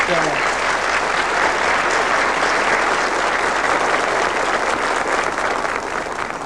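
A dense wash of studio audience applause on a 1970s British TV quiz show, loud and unbroken, with faint voices mixed in.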